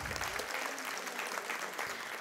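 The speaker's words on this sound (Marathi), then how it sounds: "सर्वांसाठी एकदा टाळ्या वाजवाव्यात सगळ्यांनी" An audience gives a brief burst of steady, dense clapping at a human rights award ceremony held for World Human Rights Day.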